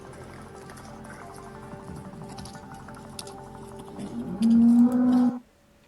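A naturally hornless cow with a small tuft of hair on its head moos loudly and close at an agricultural fair, one long low call near the end over a busy hall murmur.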